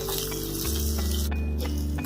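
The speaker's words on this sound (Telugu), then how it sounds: "కరివేపాకు ఇవి 1 నిమిషం వేయించుకొని రెడ్ చిల్లీ, గ్రీన్ చిల్లీ వేసి 1 నిమిషం మళ్ళీ వేయించుకోవాలి" Curry leaves with red and green chillies fry in hot oil as a tempering for restaurant-style curd rice, a steady close sizzle with a brief dip partway through.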